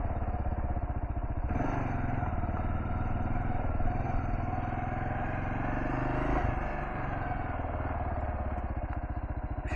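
A Kawasaki KLR650 adventure motorcycle on Shinko 244 and Shinko 700 tires climbs a steep off-road hill, its single-cylinder engine thumping loud and steady throughout, with a surge in revs midway and clattering from the rough ground.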